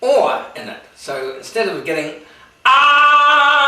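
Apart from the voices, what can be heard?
No everyday noises stand out.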